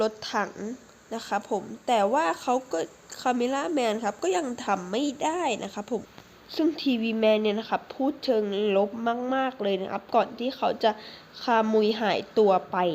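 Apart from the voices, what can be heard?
No everyday noise stands out behind the speech.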